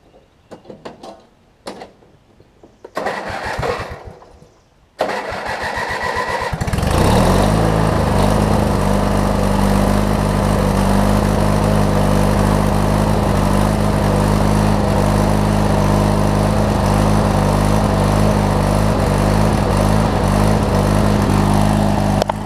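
An MTD LT1442 riding mower engine cranks in a few short bursts, then catches and runs steadily and loudly for the rest of the time, with a constant low drone close by.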